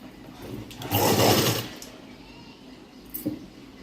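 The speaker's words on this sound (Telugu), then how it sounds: "ఇలా స్టిచ్ కుట్టుకున్న తర్వాత పైనుంచి ఒక స్టిచ్ వేసుకోవాలి క్రాస్ బిల్ట్ల మీద" A sewing machine stitching a blouse runs in one loud burst of about half a second, then falls quiet apart from a short mechanical clunk near the end.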